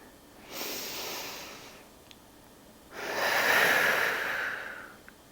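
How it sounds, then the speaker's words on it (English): Two long, slow exhales through the mouth during deep core bracing, close and breathy, the second fuller and longer than the first, with quiet pauses between. "I'm gonna exhale slowly and feel my stomach tighten, kind of like a corset"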